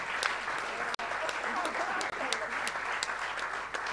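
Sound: audience applause

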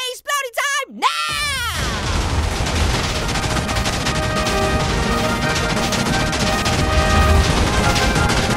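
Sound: TNT exploding in the video game Minecraft

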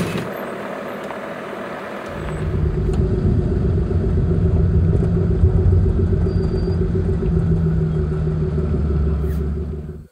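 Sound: two-wheel drive Sprinter van driving on graded road

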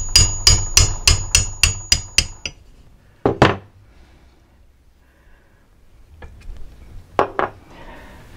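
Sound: hammering tapered punch into tubing end

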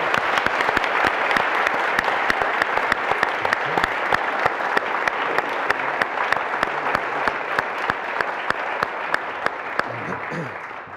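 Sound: audience applause at panel session

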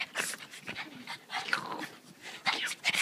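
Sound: dogs scuffling

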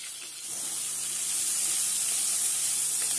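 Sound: chopped onions frying in a wok

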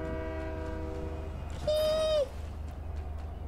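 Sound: train passing in the video game Fortnite

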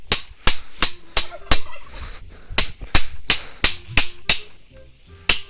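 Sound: turkey gobbling in a village yard

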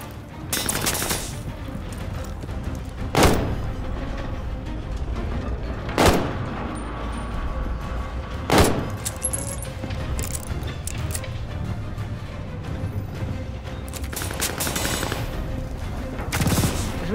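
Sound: gunfire in Call of Duty Vanguard video game

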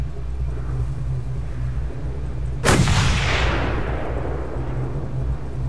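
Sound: gunshots in Mad Max video game, shooting at a cable

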